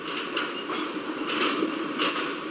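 A WDM3A diesel locomotive hauls a passenger train slowly into Shivamogga station in India, steady rumbling rolling noise with repeated wheel clatter over rail joints, close and fairly loud, no voices.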